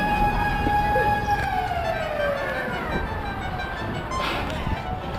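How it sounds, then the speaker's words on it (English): A wailing siren sweeps down in pitch over steady background noise, fairly loud and sustained across the whole stretch. "You hear that siren?"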